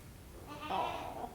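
A goat kept in a stall on a farm bleats once, a single close, moderately loud wavering call in the second half, with no talking.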